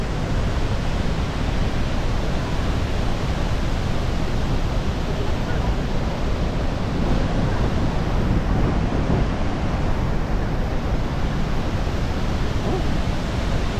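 Niagara Falls sends up a constant, dense roar of crashing water, loud and unbroken throughout and mixed with wind buffeting the microphone.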